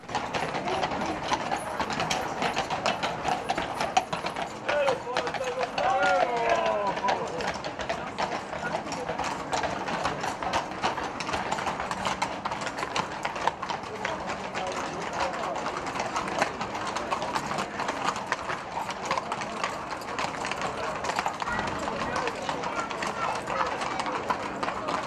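Horses' hooves clip-clop steadily on the street as they pull decorated carriages in a parade in Warendorf, mixed with crowd murmur and a narrator speaking throughout.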